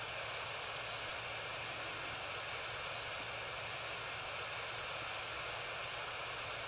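Airbus A320 jet engines in a Delta livery spool up at 20% thrust during a night takeoff in Real Flight Simulator, a steady broadband roar with a faint high whine, even and unbroken throughout.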